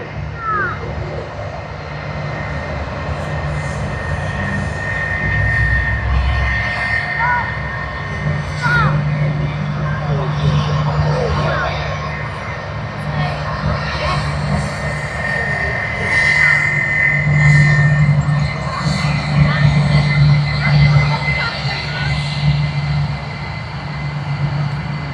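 Jetstar airliner at Sydney Airport, a steady low engine roar with a sustained drone that swells slightly midway, continuous and moderately loud across the span, with a voice talking faintly over it.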